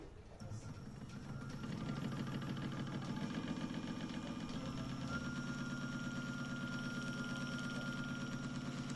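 A small repaired MKhUS-15F electric motor hums and whirs steadily, starting up in the first seconds then running at an even, constant pitch, fairly quiet and close.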